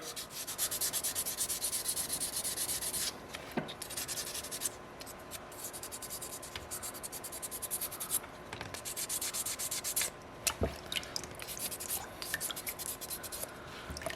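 Steady close rasping of sandpaper scrubbing over a small soapstone wolf carving, continuous with brief pauses and shifts in stroke.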